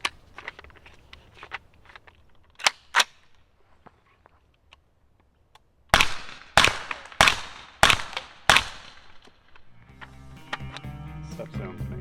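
Suppressed subsonic rifle fire using 220-grain ammunition through a steel can suppressor: two muffled cracks, then a quick string of five sharp shots outdoors, with a low rumble trailing at the end.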